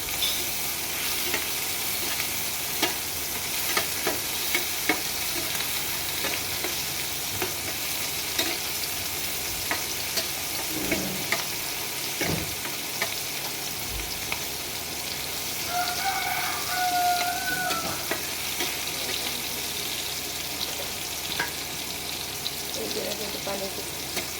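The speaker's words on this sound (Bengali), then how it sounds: "ভালো করে লাল লাল করে চিংড়ি মাছটা ভেজে নিতে হবে" Spice-coated shrimp fry in a pan in a village kitchen, with a steady sizzle, occasional stirring clatter, and a rooster crowing faintly in the distance.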